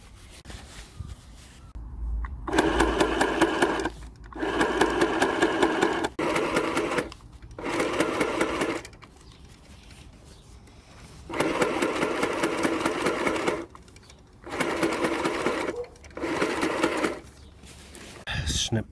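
A sewing machine stitches a center zip into a bivvy bag in loud, rapid bursts of mechanical chattering, several runs of a few seconds each separated by short pauses.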